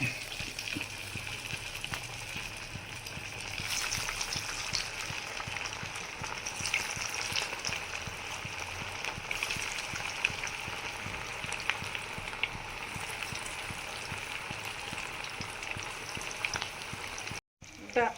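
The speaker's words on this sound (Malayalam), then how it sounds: "എണ്ണ തിളച്ചിട്ടുണ്ട്. അതിലേക്ക് നമ്മൾ നൊത്തോലി വടയാക്കി വെച്ചേക്കുന്ന ഇടയാണ്." Anchovy fritters sizzle softly in hot oil, a quiet, steady crackling hiss that runs throughout with faint popping.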